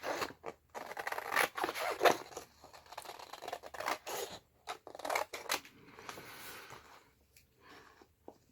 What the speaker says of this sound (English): cut the other piece to size